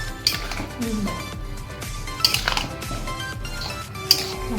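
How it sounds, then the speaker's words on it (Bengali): Metal utensil stirring fish curry with winter vegetables in a pot, with a few sharp clinks against the rim spaced through soft scraping, while someone talks in the background. "দিয়ে এবার মিশিয়ে দেবো পুরো তরকারিটা।"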